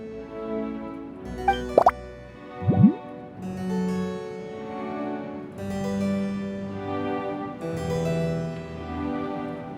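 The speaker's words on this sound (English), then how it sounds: "let's just dump the lizard tail right into the drink" In Genshin Impact, a lizard tail drops into a drink with a couple of short liquid plops early on, over soft game background music.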